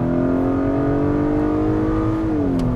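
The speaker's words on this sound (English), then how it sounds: "No, just natural four-cylinder, okay sound." A 2022 Acura RDX A-Spec's four-cylinder engine accelerates in sport mode, a steady rising drone that holds, then dips slightly near the end, heard alone without talk.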